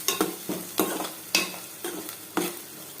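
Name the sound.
stirring turmeric into frying jackfruit seeds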